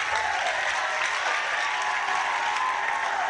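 Steady dense clapping from a congregation inside a church in Ghana, a continuous wash of many hands at an even loudness with no breaks.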